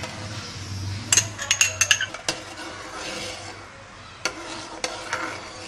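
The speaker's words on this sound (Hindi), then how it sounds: "चमचा हमें चलाते ही रहना है।" A spoon stirring custard with condensed milk in a pot, with a burst of close metallic clinks and scrapes against the pot, then sparser taps over a faint low hum.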